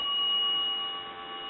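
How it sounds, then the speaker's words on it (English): A steady, continuous dial tone from a converted Kellogg wooden wall crank telephone hums evenly for a moment, clean and close, with no voices. "We'll give you some dial tone."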